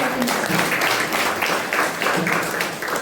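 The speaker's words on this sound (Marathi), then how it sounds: "टाळ्या वाजवा." Audience clapping at a devotional Marathi kirtan performance, a steady dense wash of applause from a seated crowd that swells in waves for about three seconds.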